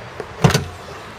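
Tesla Model S tailgate opening while the car is switched off, a brief motorized whir with a soft click and thump lasting under a second, close and moderately loud against a quiet background.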